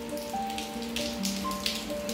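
Monsoon rain falls steadily outside a house, a continuous even patter of drops on surfaces with occasional louder splashes, close and alone with no talking.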